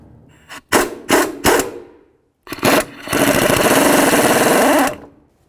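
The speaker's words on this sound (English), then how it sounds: "Now we can start removing the upper nut using an 18mm socket." An 18mm socket on a power tool backs off the upper nut of a driver's-side transmission mount on a 2000-2005 Buick LeSabre. It fires in several short, sharp bursts, pauses, then runs in one sustained two-second whir.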